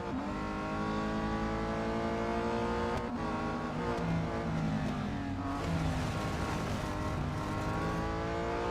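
A race car in Real Racing 3 accelerates hard, its loud engine note climbing through the gears in repeated rising sweeps with a brief dip at a shift, close and continuous, with no talking.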